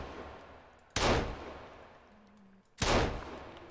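Two loud pistol gunshots in the survival game Sons of the Forest, about two seconds apart, each a sharp broadband crack with a short decaying tail over quiet ambient forest background.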